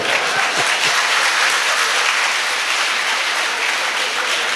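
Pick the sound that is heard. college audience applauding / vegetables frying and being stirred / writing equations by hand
college audience applauding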